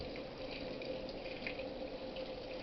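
A Whirlpool/Amana washing machine fills with water on a cool setting, a steady faint rushing hiss of water flowing in without a break, with no voices.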